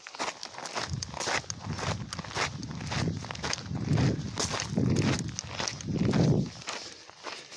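Steady crunching footsteps on loose gravel, close and regular, with a few heavier steps toward the end.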